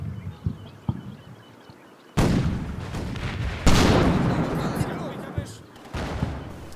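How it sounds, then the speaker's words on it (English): An infantry gun firing in the Combat Mission WWII strategy game: a few small early pops, then two heavy booming shots a second and a half apart, each followed by a long rumbling decay. "it wasn't our tank firing, it was our infantry gun"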